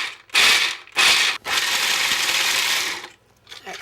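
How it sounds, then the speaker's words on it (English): A food processor blitzes whole almonds in short loud bursts, two quick pulses followed by a longer steady whirring run, then stopping; no voices. "blitz them in the whizzer just to get them chopped a little bit"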